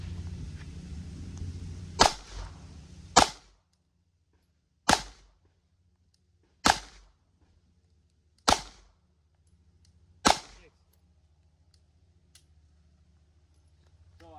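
Six sharp pistol shots during a 9mm versus .40 S&W shooting drill, the first two close together and the rest spaced about two seconds apart, each loud crack fading into a short outdoor echo.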